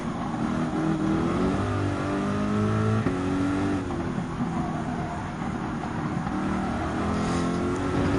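Race car engines of Toyota GR Supras and a Dodge Viper in Gran Turismo 7 drone loudly and continuously, with the engine pitch rising and falling as the cars shift and hold speed in a close pack.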